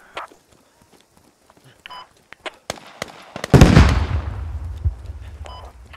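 Gunfire in the military shooter Squad v7.2 begins as scattered, distant cracks, then one loud, close blast booms and rumbles away, followed by further sporadic shots.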